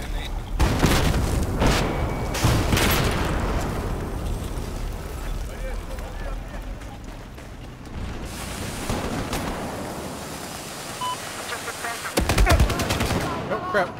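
Battlefield 4 gunfire during a Conquest match, with dense bursts of rifle and machine-gun fire and heavy booms filling the mix, loud and continuous with brief lulls.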